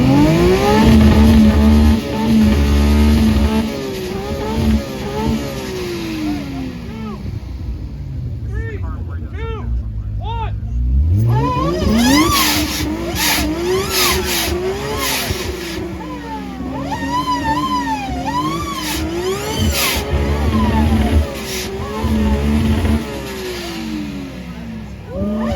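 A turbocharged and supercharged Toyota Soarer revs hard at an import car show rev battle, its engine note climbing and falling through repeated loud sweeps with popping bursts, close and dominant against crowd noise.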